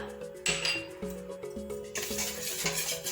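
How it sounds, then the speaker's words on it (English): A whisk beats flour, baking powder and salt together in a bowl, giving quick rhythmic clinks and rattles against the sides, close up over soft background music. "And then we're going to whisk this together"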